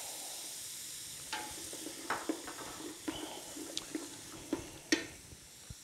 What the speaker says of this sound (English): Let's get these onions off in here.